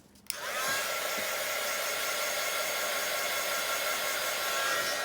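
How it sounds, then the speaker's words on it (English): A heat gun blows hot air across warm resin on a cheese board, switching on with a click and then roaring as a loud, steady hiss that holds for several seconds. "I think I'm going to use the heat gun."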